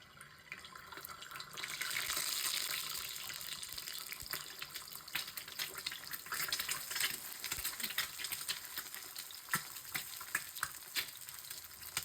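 Eggs frying in oil in a pan, a continuous crackling sizzle with bright spitting pops that sets in loudly after a quieter start and carries on steadily throughout.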